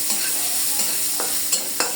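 Meat cooking in a kadai as its water cooks off, a steady frying hiss with a few sharp scrapes of a spatula stirring against the pan.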